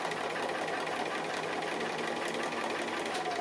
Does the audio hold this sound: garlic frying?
no